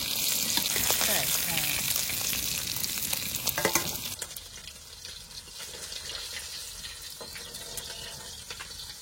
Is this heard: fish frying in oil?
yes